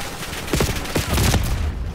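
Gunfire in the Call of Duty Black Ops 6 video game, a short flurry of several loud, close shots in quick succession over a brief stretch of game noise.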